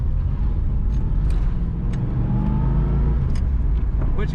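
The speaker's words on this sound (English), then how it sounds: "Very good acceleration in this car." A 1983 Chevrolet Camaro Z28 HO convertible with its top up and a 5-speed manual accelerating, a loud steady engine drone heard from inside the car with rising revs and faint clicks of shifting and cabin noise.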